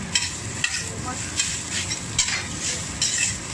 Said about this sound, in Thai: ใส่ข้าว หนึ่งถ้วยค่ะ ลงไปผัดเลยนะคะ ใช้ไฟแรงค่ะ